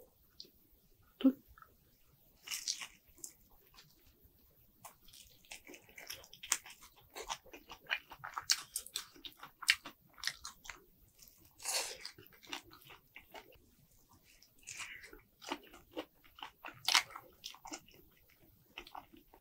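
Quiet, close crunchy bites and chewing of crispy seasoned Korean fried chicken, scattered crackles and munching sounds repeating irregularly over a long stretch without speech.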